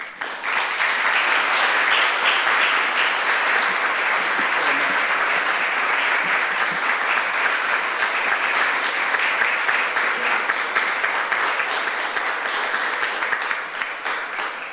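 Sustained audience applause welcoming Kathy and Bob Miller at a groundbreaking ceremony, a steady wash of many hands clapping that holds for the whole stretch and fades slightly at the end.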